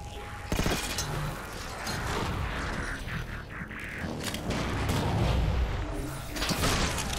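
Gunfire in the Halo 4 video game, including sniper rifle shots, comes as loud, dense bursts of booming shots and mechanical clatter throughout, with a few sharp cracks standing out.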